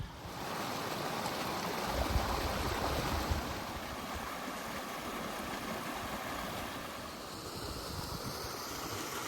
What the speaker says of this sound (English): We've got the first significant waterfall.